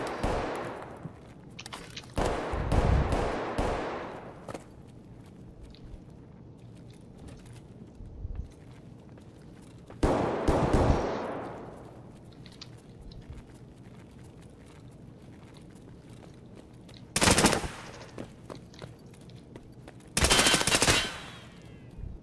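Bursts of gunfire from Escape from Tarkov: a sustained volley early on, another around the middle, then two short sharp clusters near the end, loud and close with quieter game ambience between.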